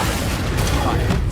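A heavy booming blast from the Confringo spell in Hogwarts Legacy, thick and rumbling with a couple of sharper bursts, rolls under a loud busy mix of game sounds with some voice present.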